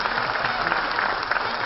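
Audience applause at a Telugu film award ceremony honoring Srimanthudu, a steady, dense clapping from a large crowd that fills the space evenly at fairly loud level.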